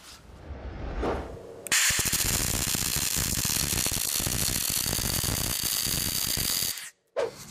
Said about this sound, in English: So I'll weld that in and braze that in